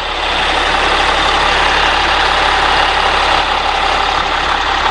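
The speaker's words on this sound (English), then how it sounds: "There's that Cat C7 in there humming along." A Caterpillar C7 diesel engine idles in a 2007 Thomas Saf-T-Liner HDX school bus, a loud, steady, close-up hum with a constant low drone and no change in pitch.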